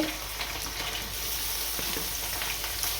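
Coriander and mint frying in a pot for chicken biryani give a steady, close sizzle with light stirring throughout, and no voices.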